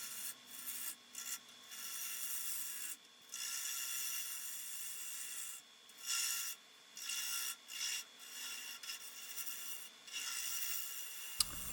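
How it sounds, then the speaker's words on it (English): A half-inch bowl gouge scrapes and rasps against spinning wood on a lathe while the top portion of a wig stand is shaped, coming in short bursts separated by brief pauses. "now using my 1/2-inch bowl gouge, I'm just going to turn this into a nice pleasing shape for this top portion"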